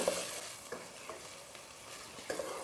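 Quiet stirring of a frying tomato and onion mixture in a pan, with soft sizzling and a few faint scraping taps from the utensil.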